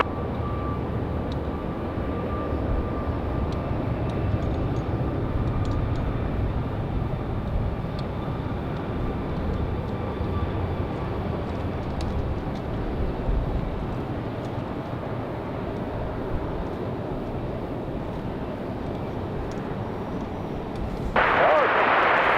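An airplane lands on runway 23 right at Raleigh-Durham International Airport, a loud, sustained jet roar with broad rumble heard from the spotting area that swells briefly near the end.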